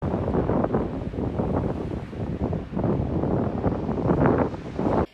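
Gusty wind on an open beach at sunset buffets the microphone in loud, continuous rumbling bursts with no pause, masking any other sound.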